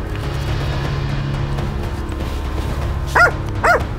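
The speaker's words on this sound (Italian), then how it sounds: "adesso Ares credo sia arrivato sul camoscio da come sentiamo abbaiare" Hunting dog barking at a chamois on a forested Dolomites slope, two distant sharp barks in the last second over a steady low background hum.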